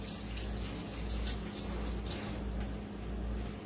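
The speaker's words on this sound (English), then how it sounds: "I have to wash my hands." A kitchen tap runs steadily as hands are washed after handling raw pork, giving a close, continuous splashing rush of water with no talking over it.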